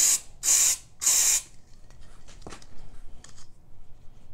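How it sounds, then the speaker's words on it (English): Three quick squirts of silicone spray hiss sharply into a paint mix, close and loud, followed by faint small handling sounds. "I'm gonna put a couple squirts of silicone in there"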